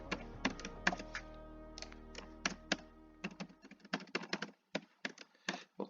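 Computer keyboard keys tapped out in an irregular run of soft clicks and thunks as a password is entered, close and quiet, with a low hum fading away under the first few seconds.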